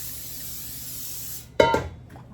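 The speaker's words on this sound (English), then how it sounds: "Let me take some spray and spray my bowl down real quick." A short steady hiss of aerosol cooking spray into a bowl for about a second and a half, then a clatter as something is set down nearby.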